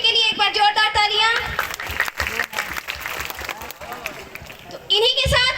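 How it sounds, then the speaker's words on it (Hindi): Audience applause at a Hindi comic poetry gathering breaks out in short bursts, with a voice speaking over the opening and end of the clapping. "इनके लिए एक बार जोरदार तालियां"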